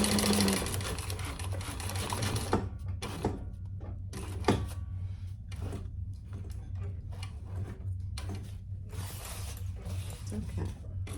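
A sewing machine stitches a large crossbody sling bag in steady mechanical bursts, up close, broken by short pauses and light handling clicks, with faint talk in the background.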